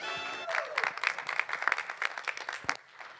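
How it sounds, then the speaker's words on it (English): A round of applause from the crowd at a COP28 climate hangout session, a brief tone at the start before scattered, lively clapping runs on and fades near the end. "Please give them a big round of applause"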